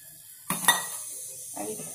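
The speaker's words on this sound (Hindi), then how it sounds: "इसमें हम 2 टेबलस्पून ऑयल डालेंगे" Two tablespoons of oil poured into a metal pan for a tempering, a sharp clink of utensil on metal followed by a ringing tap, then a faint soft sizzle as the oil settles.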